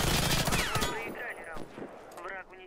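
Rapid gunfire from an online multiplayer shooter game, bursts of shots crackling loudly at the start and then thinning out, with players talking over the action.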